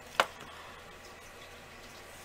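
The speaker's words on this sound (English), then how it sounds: "and a little bit of spray water" A single quick spritz of water from a spray bottle, used on a mixed-media altered-art box with rust effects paste, sounds as one short hiss near the start and then fades into quiet room noise.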